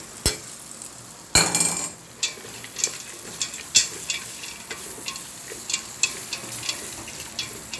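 Fried rice and greens frying in a pan, a soft sizzle under repeated sharp scrapes and clanks of a utensil against the pan at an irregular stirring rhythm.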